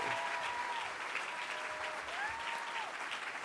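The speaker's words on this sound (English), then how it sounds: "Please join me in giving a warm round of applause to Loretta J. Ross." Warm, sustained applause from an audience at an awards dinner, steady and even throughout, with a faint tonal whistle drifting over it.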